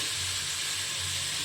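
Potatoes and drumsticks sautéing in a pan for Tirunelveli sodhi, a steady close sizzle and hiss of frying that continues unbroken, with no talking.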